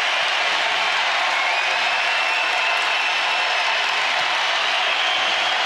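Home crowd at an NCAA women's basketball first-round game between UT Arlington and Iowa State roars steadily, a loud, even wash of cheering and applause with no distinct voices.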